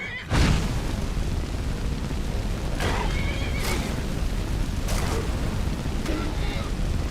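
A horse in Skyrim whinnies loudly several times, sharp neighs recurring at intervals over a rumbling game soundscape with thudding impacts, a speaking voice heard in places.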